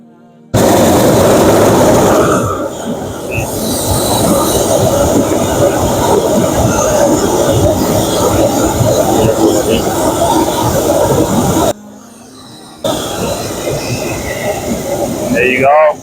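A hot air balloon burner roars loudly and steadily at close range above a basket high over York, cutting off briefly before firing again.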